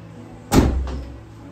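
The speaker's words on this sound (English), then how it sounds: "And then opening the door." Door of a tow hitch mounted carrier on a Nissan X-Trail T31 swinging open, a single close clunk of a latch with a broad thud, followed by a softer rattle as it settles, no talking.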